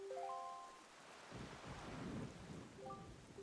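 Rain falls on a cursed island under dark clouds in The Wind Waker, a soft steady hiss with low rumbling, while short chiming musical tones sound at the start and again near the end.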